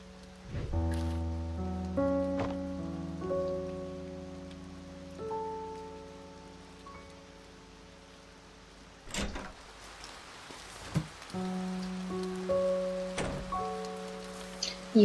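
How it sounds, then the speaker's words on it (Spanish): Steady rain falls in the A Bird Story video game, a soft continuous patter under gentle piano-like musical tones, with a few louder splashes or knocks partway through. "Hoy también llueve."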